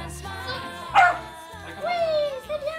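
A dog gives one short, loud bark and some softer yips while a person talks warmly to it close by, the voice running through most of the moment.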